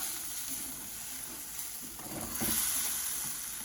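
Orange chicken glaze being stirred in a pan, a soft continuous sizzle with gentle scraping and stirring, rising slightly near the end, no voices.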